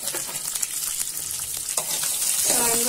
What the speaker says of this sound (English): So I am going to fry all these ingredients first.